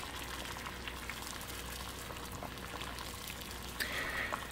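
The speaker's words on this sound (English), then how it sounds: "And I'm just gonna let it boil for a little bit." Mole sauce with tomato and a little jalapeno boiling in a pot, a steady low bubbling and hiss that holds close and even throughout, with a brief brighter burst near the end.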